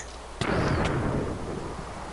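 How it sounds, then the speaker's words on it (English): A sharp, close lightning strike cracks in Minecraft, followed by a heavy rolling thunder rumble that fades slowly over a couple of seconds, with no talk. "That was a powerful lightning strike."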